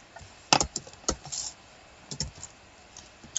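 Keys on a computer keyboard are tapped in short, scattered clusters while entering Python code, close and fairly quiet with irregular pauses between strokes.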